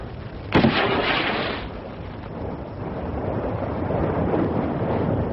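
A line-throwing gun fires a cord at sea with one sudden loud crack, followed by a long rushing whoosh that fades into a steady roar of wind and water.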